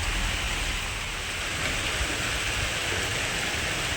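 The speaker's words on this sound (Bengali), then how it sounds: "আর তার মধ্যে আবার বৃষ্টি পড়তে শুরু হলো।" Heavy rain pours down beside a large balcony, making a dense, even hiss that holds steady throughout without pauses or voices.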